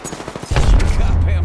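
Gunfire erupts in the Apex Legends video game, a loud close burst that follows brief soft clicks and holds as a dense roar to the end.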